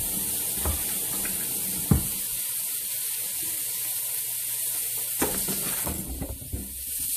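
Food stirred into a hot pan with a faint steady sizzle underneath, broken by a few sharp utensil clatters and scrapes, fairly close.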